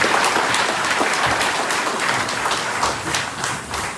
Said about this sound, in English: A round of applause, please, for Sekuru Nyashanu